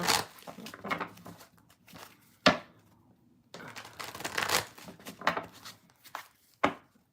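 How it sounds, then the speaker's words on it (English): A large stack of playing cards is shuffled by hand, with several bursts of riffling and sharp bridge snaps separated by brief quiet pauses, close and fairly soft. "last deck. lots of cards to shuffle."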